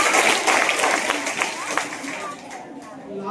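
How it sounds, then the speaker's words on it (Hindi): Audience clapping breaks out at a cultural quiz event, dense applause filling the first seconds and gradually thinning out, with crowd chatter and voices mixed throughout. "तालियां बजा दो भैया।"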